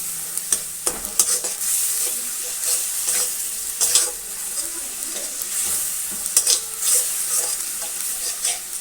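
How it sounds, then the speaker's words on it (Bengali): Ginger, cumin, green chilli, coriander and turmeric sauté in a pan under a steady hissing sizzle, with repeated sharp scrapes and clacks of stirring and no talking. "এর মধ্যে আদা, জিরে, কাঁচা লঙ্কা, ধনে সব রকম মশলা দিয়ে, হলুদ দিয়ে মশলা দিয়ে আমি কষিয়ে নেব।"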